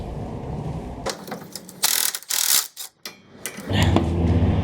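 A ratchet loosens the sump bolts under an R31 Skyline with a Barra engine swap, giving close, loud bursts of clicking and scraping metal with short pauses between them and no talk.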